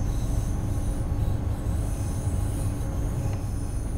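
A BR 442 electric multiple unit runs in Train Sim World 4 while heading into the sidings, giving a steady loud rumble of wheels on rails with a faint high squeal and no talk.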